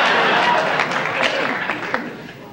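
Studio audience applauding on a 1981 late-night NBC talk show, a broad steady wash of clapping that holds loud and then gradually thins out, with no talk over it.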